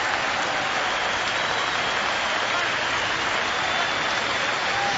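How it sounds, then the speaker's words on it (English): Cricket crowd at a Test match in Cape Town applauds the Indian captain, a broad, steady wash of distant clapping that stays constant and unbroken throughout. "Generous round of applause for the Indian captain."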